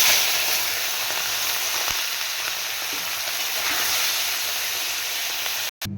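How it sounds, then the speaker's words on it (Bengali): Morola fish coated in turmeric and salt frying in hot oil in a wok, a loud, even, continuous sizzle heard up close, with a brief cut near the end. "কড়াইতে দিয়ে দিয়েছি তেল, মাছগুলো ভেজে নেব।"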